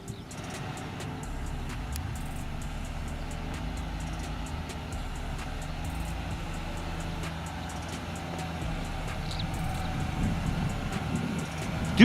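A Range Rover crawling off-road in low range with raised air suspension and a locked central differential, its engine giving a low steady drone with faint creaks, and no talk.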